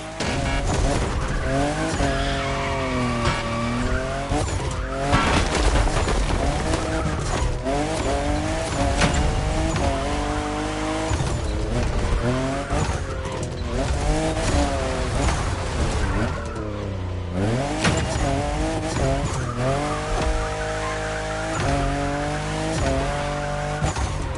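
A fifth-generation Toyota Supra races in The Crew Motorfest, its engine loud and constant, rising and falling in pitch through repeated gear shifts, with tire squeal and skidding mixed in.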